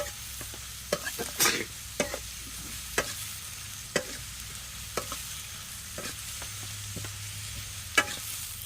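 Onions frying with salt in a pan for a Kerala-style fish curry, stirred with regular scraping strokes about once a second over a steady, soft sizzle, with no voices.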